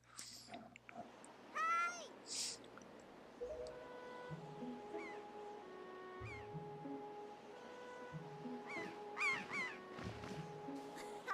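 Seagull-like bird calls from the video game The Wind Waker HD, a few sharp cries heard over steady in-game music and ambience, with a short burst of squawks near the start and more later.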